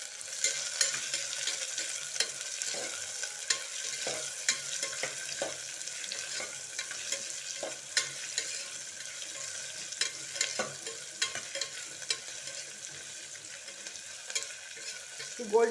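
Onions frying in a pan and being stirred until golden brown, a steady close sizzle with frequent soft scrapes and taps of the spoon, no talking.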